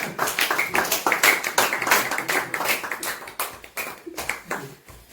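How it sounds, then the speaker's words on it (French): Steady rhythmic hand clapping from a small church congregation welcoming a preacher fills the whole stretch, fading slightly near the end. "Pendant qu'il s'élève, nous applaudissons pour l'accueillir."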